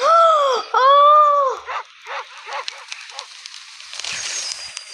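A dog yelps and whines loudly up close, then lets out a rapid series of shorter, sharp barks.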